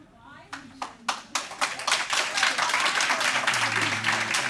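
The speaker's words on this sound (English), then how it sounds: "We need to hold the applause" Applause and clapping from attendees at a local planning agency meeting, starting as a few scattered claps that swell into steady sustained applause in the room, with murmuring voices underneath.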